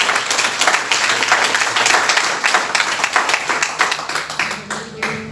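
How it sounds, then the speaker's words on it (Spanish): Church congregation applauding during a Sunday morning worship service, a dense wash of clapping from many hands that stays steady and close, then thins and trails off near the end with faint voices underneath. "¿Cuánto le dan un aplauso en esta mañana al que vive, al que reina?"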